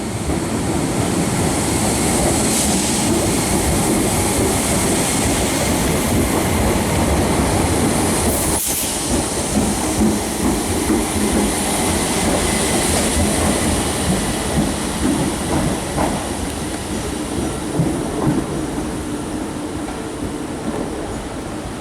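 A ScotRail class 314 electric train in SPT livery rolls past at close range near Glasgow, a loud sustained rumble of wheels on rails with rhythmic clicks and brief squeals, no voices.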